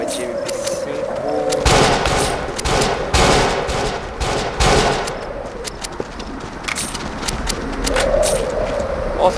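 An MP5 submachine gun fires in the video game Modern Combat: Domination, with loud rapid bursts of automatic fire and sharp cracks over an ongoing game soundscape.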